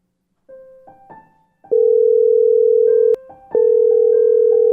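An outgoing phone call starts with a few soft tones, then a loud, steady ringback tone sounds in two long bursts separated by a brief gap, clean and close.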